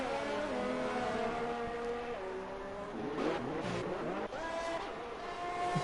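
F2 race cars in a racing video game at Singapore scream past in a close pack, several engines rising and falling in pitch with overlapping whines and brief tyre-scrub bursts, loud and continuous.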